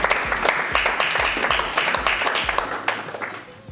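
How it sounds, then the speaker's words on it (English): An audience at a talk in Sydney breaks into loud, dense clapping that holds steady for a few seconds before starting to taper off. "So please give Hillel a big round of applause"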